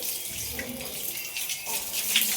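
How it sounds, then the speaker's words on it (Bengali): Water poured over newly laid floor tiles on a veranda, a steady splashing and running hiss close by without pause, with no talking. "আমরা জল দিলে টাইপটা শক্ত হবে"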